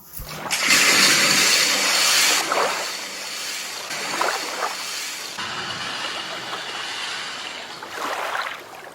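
Water splashing effect performed live for a school play skit, a broad rushing wash that surges in bursts with fainter follow-up splashes, heard fairly close in a hall.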